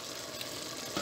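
Cod and shrimp cooking in their own juice without oil, a soft continuous bubbling sizzle heard close up for a moment.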